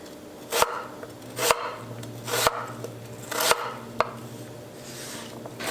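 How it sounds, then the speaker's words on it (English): A knife chops a peeled potato into smaller cubes on a cutting board, with about five distinct, evenly spaced thuds over low background hum. "We're gonna cube this up into slightly smaller cubes"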